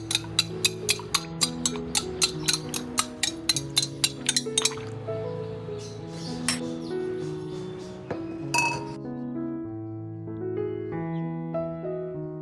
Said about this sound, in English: Stir the solution.